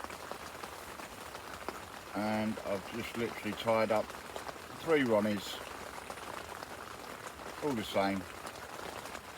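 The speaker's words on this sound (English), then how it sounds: "once it stops raining or eases off a bit" Rain falls outdoors on a club lake in Hertfordshire, a steady close hiss that runs under someone talking throughout.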